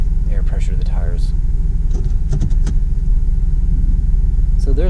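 A 2004 Dodge Dakota LST Club Cab with about 117k miles idles with a steady, loud low rumble as it is shifted into drive, with brief chirps and a voice in the background.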